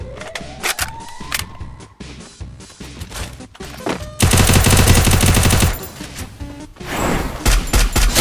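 Gunfire in the Free Fire battle royale game: scattered single shots, then a long, loud, sustained automatic burst in the middle, followed by another shorter volley near the end.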